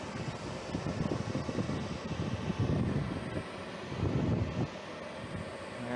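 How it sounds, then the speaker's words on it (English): Two inducer motors run on Lennox commercial HVAC units, making a loud, steady mechanical whirring roar with slight swells. The roar sounds close and carries no speech. "both inducer motors are running"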